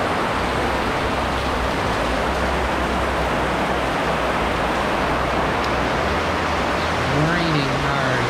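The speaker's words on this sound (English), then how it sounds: "Raining hard." Heavy typhoon rain pours steadily in Tuburan, Cebu, a dense unbroken hiss filling the whole stretch at close range, with a faint low voice surfacing briefly near the end.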